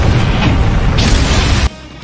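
Big anime energy blast from Goku's Super Kamehameha detonating against a creature: a loud, sustained roaring explosion with a swelling rush midway, cutting off abruptly into quiet.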